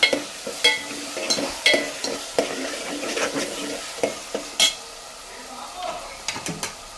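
Paste being stirred into frying onions for a fish curry, with a steady sizzle beneath irregular scraping and clinking of a spoon against the pan, close and moderately loud, no talking.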